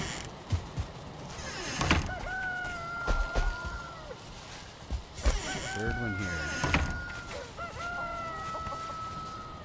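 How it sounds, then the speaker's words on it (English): Hens cluck repeatedly in the video game Valheim, several short bird calls rising over a low ambient background, with a voice talking between them. "So much happy hens."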